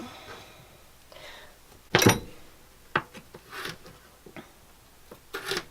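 A knife cuts peeled ginger into thin strips on a board, a few sharp close chopping taps and scraping rubs that come at irregular intervals, with no talking.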